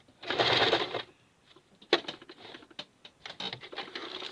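A Kenmore 1551200 straight-stitch and zig-zag sewing machine runs a close, steady burst of stitching, then falls quiet before a scatter of lighter clicks and taps from the mechanism.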